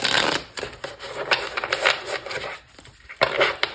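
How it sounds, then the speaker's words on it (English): Tarot cards being shuffled by hand for a reading, a close, crisp run of riffling and sliding card bursts with brief pauses between them. "I'm going to shuffle one more time"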